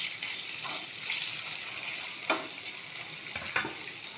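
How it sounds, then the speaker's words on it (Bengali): Cubed paneer lightly frying in hot oil, a steady close sizzle running throughout with a few sharper crackles and pops, no voices. "পনিরগুলো হালকা করে ভেজে নেব।"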